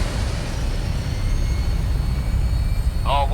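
Aircraft engine roaring as a plane takes off in Fallout, a broad steady jet rumble held close and loud, with a short voice burst at the very end.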